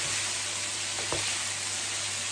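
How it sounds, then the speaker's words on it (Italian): Fennel and cod brown in a frying pan with a steady, close sizzle, with one brief stir or scrape partway through. "lasciamo rosolare per qualche minuto"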